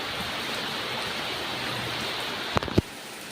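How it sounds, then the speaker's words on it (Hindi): Very heavy rain pours down steadily outdoors at an Indian home, a dense, even hiss throughout, with a couple of brief louder knocks near the end. "बारिश होनी शुरू हो गई है, बहुत तेज़ बारिश हो रही है, बहुत ही ज़्यादा तेज़।"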